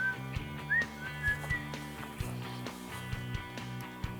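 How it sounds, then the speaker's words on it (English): A girl whistles a few short rising notes at a historic mining claim in Colorado, faint and somewhat distant over a low steady background hum. "I heard a whistle."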